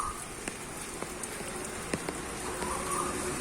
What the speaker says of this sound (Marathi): पाऊस पडतोय रिमझिम